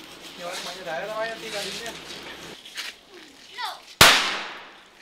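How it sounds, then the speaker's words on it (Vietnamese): Children's homemade firecrackers, made from bamboo and bicycle parts, go off in Vietnam: a single sharp, loud bang near the end with a decaying tail, preceded by voices talking. "Do cách làm pháo tự chế khá đơn giản nên những đứa trẻ này rất hào hứng, tiếng nổ lớn có thể vui tai"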